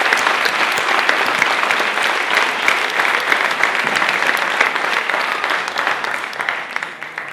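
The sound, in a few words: audience applause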